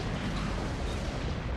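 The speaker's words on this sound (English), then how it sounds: "Wyzen's personal ship is being destroyed" A ship being destroyed in the video game Asura's Wrath, heard as a dense continuous roaring rumble of explosions that stays loud and unbroken for the whole short stretch.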